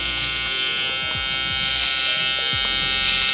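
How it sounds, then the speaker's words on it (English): Electric beard trimmer buzzing steadily up close while a barber lines up a beard, a constant high hum with small rhythmic dips as the blades move across the hair. "I'm just gonna push my trimmer and make a sharp line there"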